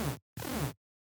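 Heavy growl bass synth patch with its effects switched off, sounding as two short, loud, buzzy bursts with a brief gap between them, then silence.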